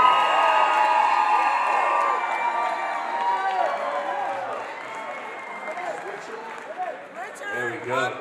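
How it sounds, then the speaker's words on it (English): Crowd at an awards presentation cheers, whoops and shouts loudly, the roar easing gradually into scattered yells, with voices heard over the noise. "Make some noise for the legend Richard Vision in the building tonight"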